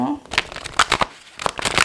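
Tarot cards shuffled by hand in quick crisp riffles and slides, several bursts of papery flutter close up with short pauses between them.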